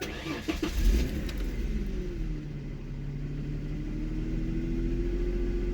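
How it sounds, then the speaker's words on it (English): A New Edge Ford Mustang engine with P1117 and P1290 fault codes cranks and catches, then settles into a low, steady idle, heard up close with no talking. "Turn the car on."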